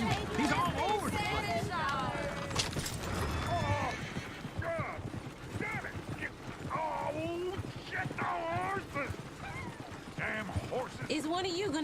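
Hooves clip-clop steadily as a horse-drawn coach moves in Red Dead Redemption 2, heard under ongoing talk with a busy background.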